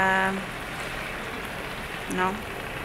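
Steady rain falls outside a covered boat, a soft continuous hiss of drops, with a voice-like tonal sound briefly at the start and again near the end.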